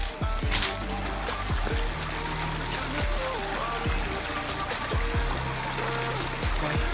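Flowing water in a video game trickles and streams steadily for several seconds, a continuous wash mixed with low tonal game sounds and brief clicks.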